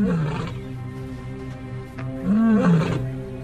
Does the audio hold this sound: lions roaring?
yes